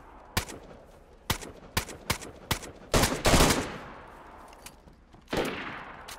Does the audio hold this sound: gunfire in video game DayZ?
yes